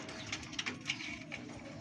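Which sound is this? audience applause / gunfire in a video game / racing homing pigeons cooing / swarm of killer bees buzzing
racing homing pigeons cooing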